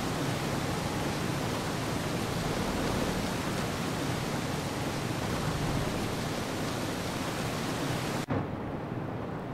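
Loud, steady roar of water rushing over a dam in Half-Life 2, a dense broadband wash that holds constant and then cuts off abruptly near the end.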